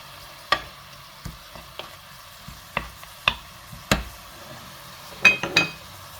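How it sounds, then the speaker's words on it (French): A spoon stirring leeks and garlic in a frying pan, with a soft sizzle under a series of distinct scrapes and knocks against the pan, spaced roughly every half second to second, ending in a quick cluster. "On mélange bien."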